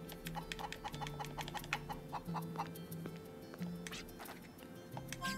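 Chicken in the video game Wild Arms 3, clucking in a quick series of short, sharp clucks against a low, steady game music background, faint overall.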